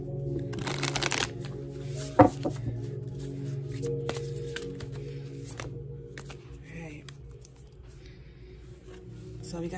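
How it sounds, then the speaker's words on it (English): A deck of cards is shuffled in a quick riffling burst early on, followed by quieter handling noises against a low background hum. "Oh, I didn't shuffle it yet."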